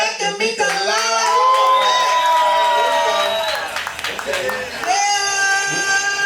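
A crowd at a live show cheers and shouts loudly, with whoops and yelling that swell, dip briefly and rise again, voices carrying over the roar throughout.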